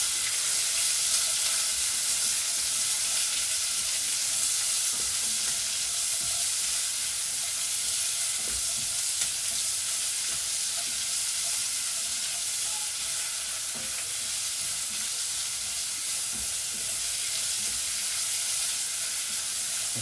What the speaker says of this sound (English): So get the onions in and just keep on stirring them.